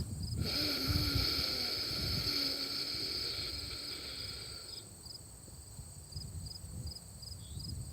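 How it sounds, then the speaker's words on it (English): Slow, airy breathing with a soft rushing, ocean-like rasp, heard close over a steady background of chirping crickets. "I like the Yogic breath, the warrior breath, the ocean sounding breath. Sounds like this."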